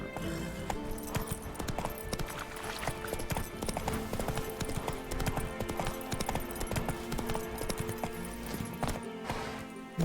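Roach the horse gallops in The Witcher 3 on PC, with a steady, rapid clip-clop of hooves that runs the whole time over light game ambience.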